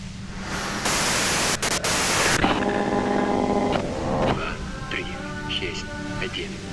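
Harsh radio-like static and white noise in the game Disco Elysium, a dense hiss that swells and cuts in and out, then gives way to garbled tonal broadcast fragments, with a voice speaking over it.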